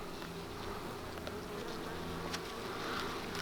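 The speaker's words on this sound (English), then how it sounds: "So we got to see if we can get these bees off of here and tear those off" Honeybees buzz steadily around an open hive during a beekeeping inspection on a farm, a dense, continuous hum that stays close and even throughout with no voices.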